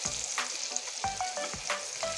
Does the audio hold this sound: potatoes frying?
yes